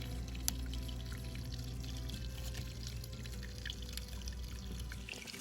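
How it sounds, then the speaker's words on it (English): Water drains from one channel into the next and flows onward in a faint, steady trickle and pour with light drips, low and continuous throughout. "So open up this one, which drains across to this one, and then it flows around here."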